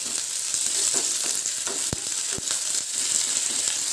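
Tamarind, curry leaves and four garlic cloves fry in a pan for an Andhra-style ivy gourd chutney, producing a loud, constant, close sizzle broken by a couple of sharp taps.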